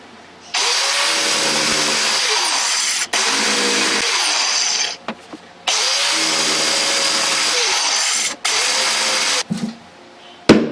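Power saw with a round blade cutting ceramic tile in place, loud sustained whining bursts with brief stops between passes, no talking.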